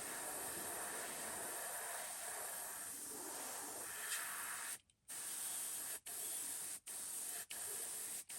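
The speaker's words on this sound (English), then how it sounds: "And the inks are really easy to spray." Steady airbrush hiss spraying ink onto a crawfish fishing lure runs for several seconds, then breaks into short bursts separated by brief silences, close and fairly quiet.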